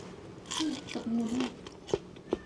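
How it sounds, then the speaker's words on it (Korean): A crisp bite into meat fried in pork fat gives soft chewing followed by two short, sharp crunches near the end, close and fairly quiet, with murmured voice sounds earlier. "이 소리 들려요, 소리? 돼지 기름으로 그래서 저기 튀겨서 그런지 엄청 더 바삭하고요."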